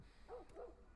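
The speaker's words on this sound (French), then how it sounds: "Le chien, tu peux arrêter, tu me fais flipper." A dog in the video game The Last of Us gives two quick, faint yipping barks in close succession over a low, quiet background.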